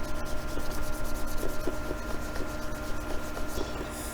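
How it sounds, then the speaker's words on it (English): Steady close-up rubbing of polish into a plastic surface, a continuous swishing friction with faint rhythmic strokes, heard alone without voices. "rub that on. Rub it in and"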